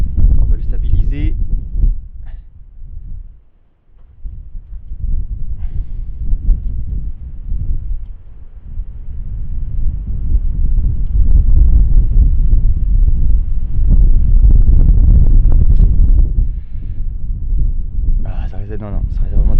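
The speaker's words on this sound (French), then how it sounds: "Beaucoup trop de vent." Strong wind buffets the microphone outdoors at abandoned church ruins, a loud continuous low rumble with gusts that swell and drop out briefly, while a person speaks intermittently.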